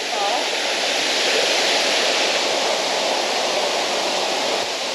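Suter Falls in Savage Gulf roars as a steady broadband rush of falling water, loud and constant throughout with nothing else standing out.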